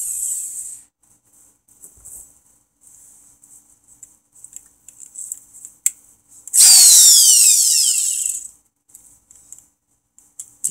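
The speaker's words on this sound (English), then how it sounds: "But this drill's never been used enough yet" A power drill gives a few short bursts, then runs at full speed for about two seconds and winds down, with scattered clicks and handling noises around it in a quiet workshop while a swamp cooler is being modified.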